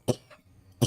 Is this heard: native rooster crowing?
no